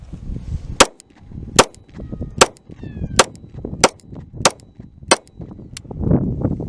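Glock 48 pistol firing from a Shield Arms S15 magazine, eight sharp, loud shots at a steady pace about a second apart, with faint movement noise between them.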